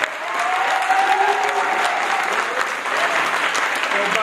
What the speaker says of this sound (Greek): Χειροκροτήστε τη Ροζέτα που είναι η Δέσποινα Μάσκα.